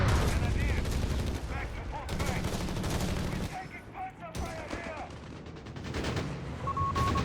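Machine gun and rifle fire in the WWII strategy game Company of Heroes 3, dense loud bursts of rapid gunfire and battle noise, with a commentator talking over it.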